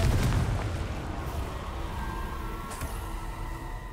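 In Hogwarts Legacy, a Confringo blasting spell sets off a heavy explosion: a deep booming impact at the start, then a rumbling tail that slowly fades with faint crackles.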